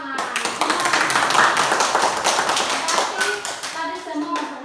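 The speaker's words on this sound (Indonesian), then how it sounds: "Ya, tepuk tangan." A class of third-grade children claps their hands together in a dense, steady patter of claps, with young voices chattering over it and a teacher's voice toward the end.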